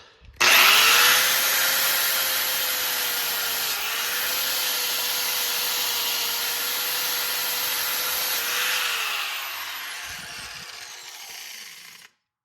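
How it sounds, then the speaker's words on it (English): A wire wheel scrubs grime, dirt and paint off a Polaris 90 sprocket, giving a loud, steady whirring grind with a constant whine that holds for about eleven seconds before spinning down, with no talking. "with my wire wheel, and I'm just gonna bring it in like this and just take off some of the grime, dirt, and if there's any paint"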